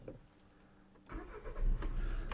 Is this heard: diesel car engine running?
yes